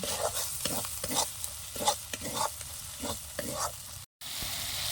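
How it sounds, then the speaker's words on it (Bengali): Chili powder, cumin and other ground spices fried and stirred in a pan, with a steady sizzle under repeated scraping strokes of a spoon, close and fairly loud, and a brief dropout near the end. "এবার এইগুলো ভালো করে কষিয়ে নেবো তারপরে মাংসটা দেব"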